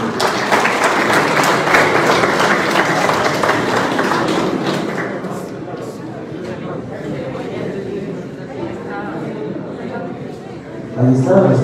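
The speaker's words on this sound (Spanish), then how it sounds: "Fuerte los aplausos, por favor." An audience at the Flisol 2022 event in Ecuador claps loudly after a university certificate is presented. The applause tapers off after about five seconds into murmured crowd chatter and a few thumps.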